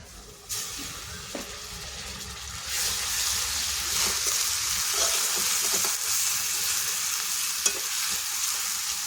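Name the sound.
onion paste frying and being stirred in a wok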